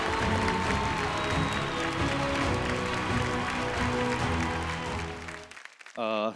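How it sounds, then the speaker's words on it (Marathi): Loud, sustained applause from a large audience at an award ceremony fills the room, dense and unbroken, then breaks off abruptly near the end as a brief burst of music starts. "क्या बात है, जोरदार टाळ्या"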